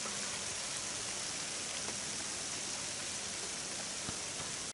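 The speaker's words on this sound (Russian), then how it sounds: "А вокруг тишина и шум дождя." Steady rain pours down in a village in Pskov Oblast, Russia, a dense, even hiss of drops with a few slightly louder patters, constant throughout and with nobody speaking.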